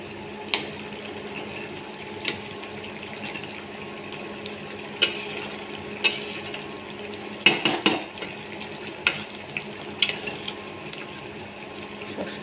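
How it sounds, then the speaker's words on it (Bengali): Prawns being stirred together with elephant foot yam in a pan, giving soft scraping and a few sharp clinks of a spoon against metal, spaced at irregular intervals over a low steady background hum. "চিংড়িগুলো এবার মিশিয়ে দিচ্ছি ওলের সাথে, একটু গামাখা হবে।"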